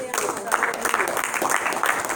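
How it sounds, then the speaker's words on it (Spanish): A church congregation claps and applauds continuously, moderately loud, with some voices mixed in. "Denle un aplauso bien fuerte a Jesús."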